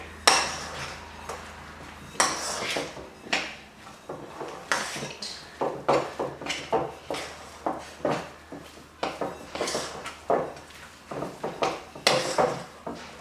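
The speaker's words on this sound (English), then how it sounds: "Just grab a spoon and just start bringing in the flour into the wet mixture, and just stir that until it starts to form a dough" A spoon knocks and scrapes against a mixing bowl as flour is worked into a wet mixture for hot cross bun dough, giving close, repeated clinks and scrapes in an uneven rhythm.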